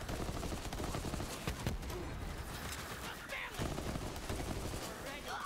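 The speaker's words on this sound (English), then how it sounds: "Where the fuck are you shooting?" Gunfire from the Borderlands video game: dense bursts of rapid shots and explosive pops in a loud, cluttered game mix, with voices talking over it.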